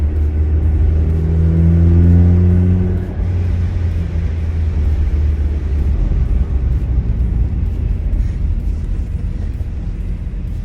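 A Honda Civic FN2 Type R on the road makes a steady mid-range engine drone with rumbling road and tyre noise, its revs dropping after a few seconds before the car settles into a continuous cruise.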